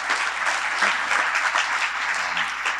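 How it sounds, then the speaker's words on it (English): An audience at an awards event applauds, a dense, steady roar of many hands clapping that fills the room throughout. "Let's give Larry a real big round of applause"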